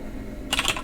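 A few quick keystrokes clack on a computer keyboard after a short silence, close up and sharp, with no speech.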